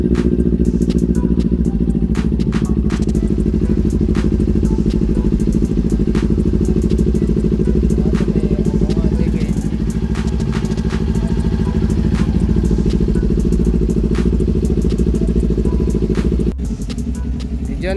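A Kawasaki Ninja 400 motorcycle engine runs steadily after a fuel pump replacement, a close, loud idle with clattering ticks over it, dropping in level briefly near the end.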